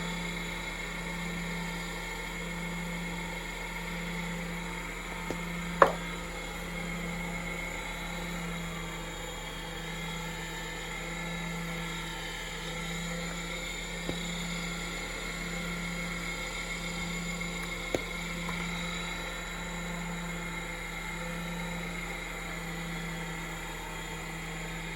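A wood lathe turning a glow-in-the-dark pen blank at about a quarter speed on its highest gear, sanded with Micro Magic, gives a steady hum with a constant whine, alone with a few faint clicks.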